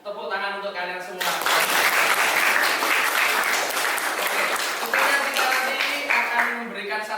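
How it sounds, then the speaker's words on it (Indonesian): Students in a vocational high school classroom burst into loud, close applause after a brief moment of voices, sustained clapping that carries on with some voices mixed in near the end. "Tepuk tangan untuk kalian semua."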